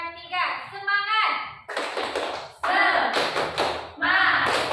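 A class of schoolchildren does a rhythmic spirit clap in a classroom, bursts of sharp hand claps and taps in a set pattern alternating with loud chanted group voices, close and lively.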